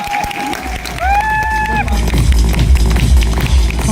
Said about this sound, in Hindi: तो आप ताली बजाओगे।